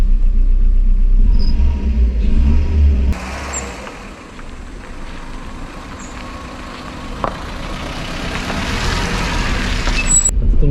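A car at a village house starts with a loud, close engine rumble for a few seconds, then settles into a quieter, steady running drone as it drives off, with the noise swelling slightly toward the end.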